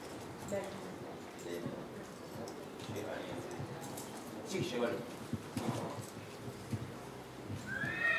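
Horse sounds in a training pen during a colt-breaking session with Paso Fino horses, with a whinny and hoof clip-clops at moderate distance while people talk over them.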